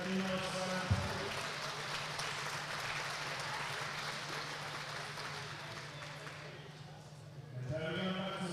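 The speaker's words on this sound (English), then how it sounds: "Round of applause now for our UK female Australian podium." Crowd applause for podium finishers at an Australian national youth speed championship, steady clapping sustained through most of the stretch, fading briefly before a voice speaks over a PA at the start and end.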